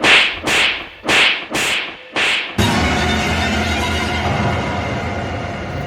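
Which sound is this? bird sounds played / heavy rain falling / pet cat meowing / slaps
slaps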